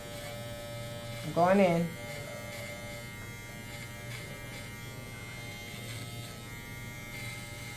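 Electric hair clippers set to a number 2 guard buzz steadily while cutting hair on a mannequin head, a brief louder burst early on, with a person talking over the hum.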